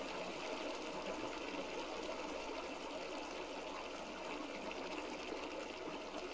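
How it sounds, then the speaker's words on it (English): Water spills from a bucket in a video game, a steady broadband rushing and trickling flow that runs unbroken and fairly loud throughout, with no voices. "I didn't mean to spread the water."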